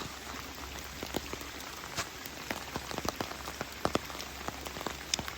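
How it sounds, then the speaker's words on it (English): Steady rain patters all around, with scattered drips and heavier drops striking leaves and surfaces nearby, no voices. "We're out here in the rain."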